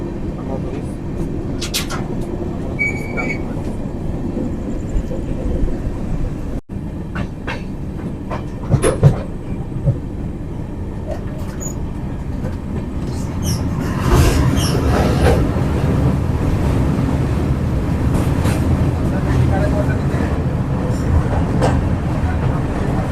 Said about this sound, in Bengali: কিছুক্ষণের মধ্যে আমাদের হামসাফার এক্সপ্রেস নসিপুর রেলওয়ে প্রবেশ করবে